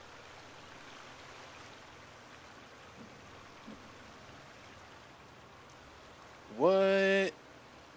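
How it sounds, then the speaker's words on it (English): Water runs steadily in the survival video game The Forest, a constant rushing hiss like a nearby stream. A player speaks briefly near the end over a short, louder tonal in-game sound. "I hear water."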